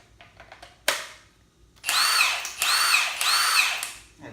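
Milwaukee M18 Fuel cordless power tool, a few light clicks and a sharp knock first, then three steady close-up bursts of high motor whine separated by short dips, with no voices.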